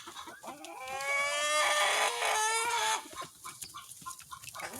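A rooster in a chicken coop lets out a long, loud drawn-out crow, followed by softer scattered clucks and faint murmuring from the flock.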